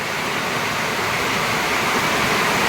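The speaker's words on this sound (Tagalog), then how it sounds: "Ang tindi na naman ng ulan. Ayan. Buhos na naman." Heavy rain pours down in a dense, unbroken roar, loud and constant throughout.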